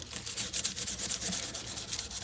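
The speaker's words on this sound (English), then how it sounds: "I've been working my way through the grits, hand sanding this handle." Rhythmic scratchy strokes of sandpaper rubbing back and forth across a wooden knife handle by hand, steady and close, roughly three strokes per second.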